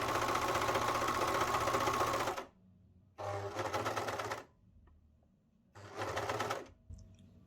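Sewing machine stitching the back neckline of a garment, three runs of rapid, steady mechanical whirring separated by pauses. The first run is the longest and all are loud and close.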